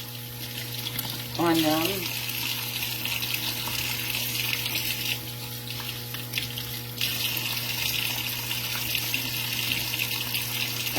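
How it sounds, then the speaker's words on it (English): A sink tap runs steadily as pickling cucumbers for canning are rinsed: a continuous, close hiss of flowing water with a brief spoken phrase early on. "So I'm going to rinse that off."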